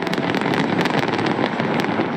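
Dense New Year fireworks over Victoria Harbour crackle and pop continuously, many sharp bursts layered over a loud steady roar.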